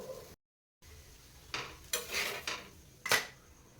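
A thalipeeth flatbread is lifted off a hot pan onto a plate, with a brief gap followed by several distinct scraping and clinking utensil sounds, close and moderately quiet, no voices.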